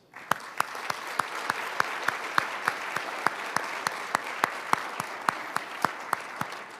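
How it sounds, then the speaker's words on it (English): A single person or small group claps in an even, steady rhythm at an awards program, each clap distinct and evenly spaced over a soft background of room murmur. "I'd like to give a round of applause to acknowledge their achievements."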